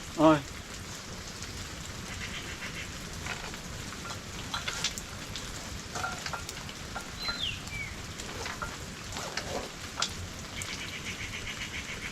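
Steady rainfall outdoors at a scenic spot in Sreemangal, a soft continuous patter with scattered drops and faint distant sounds, moderately quiet.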